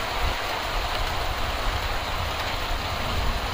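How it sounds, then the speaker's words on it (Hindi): Dense, steady hiss of heavy rain pours on a roof without pause, a constant broadband wash with no voices. "तेज बारिश है, देख सकते हैं आप लोग, बारिश ही बारिश, छत पे बारिश"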